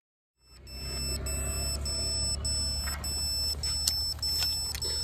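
An FPV drone's beeper chirps after its battery is plugged in or pulled, with short high-pitched beeps repeating irregularly over a steady low hum, close by.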